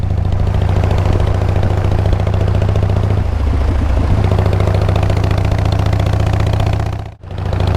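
A Harley-Davidson motorcycle engine drones loudly and steadily while riding on a road toward town, with low rumbling and wind noise. The sound cuts out briefly near the end.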